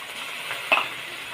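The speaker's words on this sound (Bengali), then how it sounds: "পেঁয়াজটা মোটামুটি ভেজে নিচ্ছি, কারি পাতা দিয়ে দিচ্ছি" Onions and curry leaves fry in a pan with a soft, steady sizzle and a single brief clink partway through.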